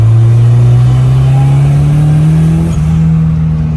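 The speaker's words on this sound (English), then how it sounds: "Now I can actually see like how my car accelerates" A Mazda Miata's engine drones steadily from inside the cabin as the car accelerates, a loud low hum that climbs slowly in pitch with no talking.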